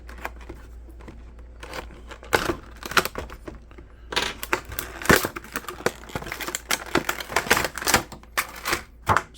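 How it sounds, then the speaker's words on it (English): An X-Acto knife slices open the packaging of a Marvel Legends Spider-Man toy, producing close, irregular bursts of sharp clicks, scrapes and plastic crinkles separated by brief pauses. "we got the trusty X-Acto knife."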